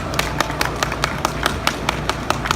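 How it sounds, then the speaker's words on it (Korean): Applause at a memorial rally, heard as steady rhythmic clapping with a regular, evenly spaced beat, fairly loud and close, over a low background murmur. "큰 박수 부탁드립니다"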